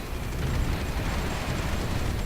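Steady, rumbling bombing explosions from the Supreme Ruler 2020 strategy game, a dense low roar of blasts running continuously with no distinct separate hits.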